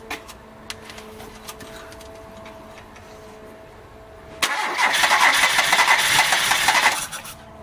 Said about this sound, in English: So, let's see if it will start or not.